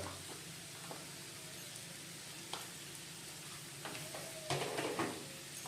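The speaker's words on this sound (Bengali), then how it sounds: "এখন মশলাগুলো ভালো মতো কষিয়ে নেব।" Turmeric, Kashmiri red chilli powder and cumin being sautéed in oil in a pan for Bengali tel koi fish curry, a steady soft sizzle with occasional stirring scrapes and clinks that get louder toward the end.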